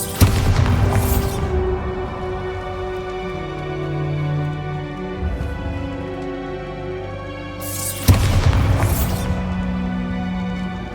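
A Bombarda blast spell cast in Hogwarts Legacy: a loud booming burst at the start and another near the end, with a low droning tail and game ambience between them.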